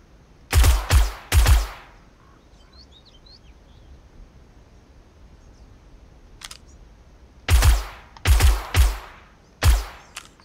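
Gunfire in the survival game 7 Days to Die: two bursts of three sharp, loud shots each, close and punchy, plus a faint lone shot and a final pair of shots, separated by quiet gaps.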